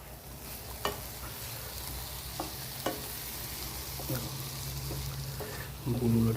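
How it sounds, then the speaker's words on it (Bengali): Milk bubbling and sizzling in a pan of carrot halwa (gajar halwa) as it cooks down, a steady frying hiss with scattered stirring clicks and scrapes, a voice briefly present. "এখনো দুধ আছে, দেখে বুলবুল আসছে"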